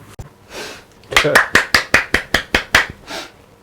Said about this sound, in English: I clapped, it said you can clap now.